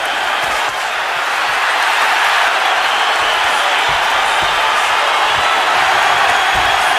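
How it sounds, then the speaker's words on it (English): Boxing arena crowd during a Canelo Alvarez versus Matthew Hatton fight, a loud continuous roar of cheering and shouting with scattered whoops, filling the space without pause. "Listen to this crowd."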